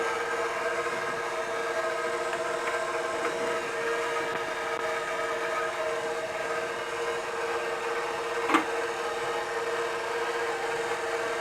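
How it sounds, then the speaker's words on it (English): A stand mixer kneads bread dough as flour goes in, a continuous, even motor hum with a steady tonal whine that holds throughout, with one brief knock near the end. "start adding our flour into the mixer"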